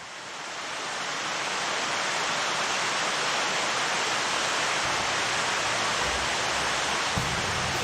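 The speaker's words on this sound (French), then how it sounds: "Ici, l'eau ruisselle en cascade sur les rocailles." Water cascades over rockwork in a fountain at Versailles, a dense, steady rushing roar that builds in the first second and then holds loud and unbroken, with no voices.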